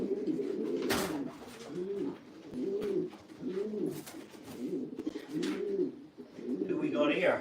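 Racing pigeons being basketed for a race coo steadily in a loft, a close repeating series of soft throaty calls with rustling and occasional wing flaps, while people talk quietly nearby.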